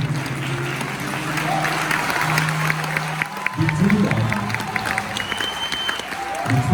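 Audience at a live concert in Seattle claps along steadily with a singer and backing music, the clapping dense and close throughout.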